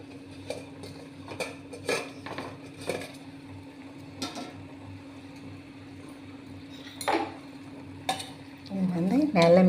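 A pot of herbal tea that has boiled for twenty minutes on a medium flame has its lid lifted, giving scattered metallic clinks and clatters, then a louder rattle at the end, with faint speech in the background.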